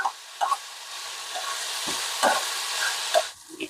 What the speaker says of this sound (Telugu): కొంచెం మీడియం ఫ్లేమ్లో పెట్టి వంకాయలు ఫ్రై చేసుకోవాలి